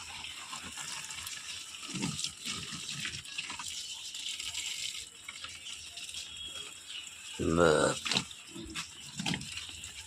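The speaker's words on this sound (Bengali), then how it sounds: "জল দিয়ে দিচ্ছি।" Water is poured over sun-scorched plants in a small home vegetable garden with eggplants. It is faint, with soft splashing and rustling over background noise and a brief louder gush near the end.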